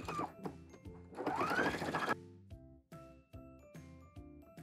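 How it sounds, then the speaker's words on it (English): Close, quiet sewing machine stitching down the turned-under top edge of an apron pocket, a rapid whirring run that stops and restarts with short mechanical bursts and clicks. "Now we're gonna turn under that top edge of the pocket and sew it down."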